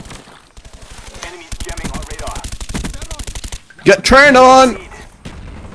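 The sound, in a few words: AK47 gunfire in the video game Call of Duty Black Ops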